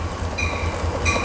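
An Amtrak train passing at Cajon, a loud, close rumble of rolling wheels with brief metallic squeals partway through, heard alone.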